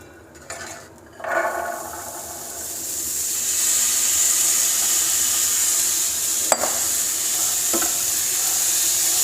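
Spices sizzle in a hot pan for black chana chaat, a steady, bright frying hiss that swells after a few stirring knocks at the start and carries on loud with occasional clinks.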